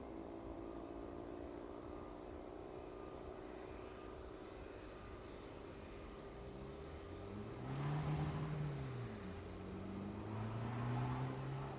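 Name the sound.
aircraft taxiing, turning towards the DHL apron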